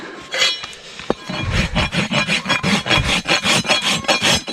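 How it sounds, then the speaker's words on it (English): A farrier's rasp files the edge of a horse hoof, bevelling it toward the heels in steady, rhythmic back-and-forth strokes, close and loud, with one sharp clink near the start. "And I'll show you here in a second with my rasp."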